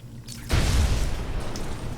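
An explosion in the video game Batman: Arkham Asylum bursts in after a quiet half second as a loud, deep boom, then a rumbling roar that carries steadily to the end without fading.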